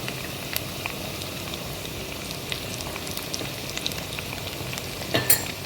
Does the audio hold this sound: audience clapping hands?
no